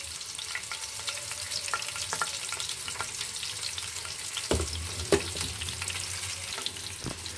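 Mustard seeds and cumin sizzle in hot oil for a fish curry, a steady close crackle broken by a few sharp pops and a couple of clanks from the pan.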